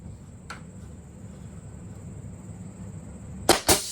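A Mastercraft nail gun fires during DIY lower-level construction work: one sharp snap early on, then two quick loud cracks close together near the end, over a faint compressor hum and a steady high whine.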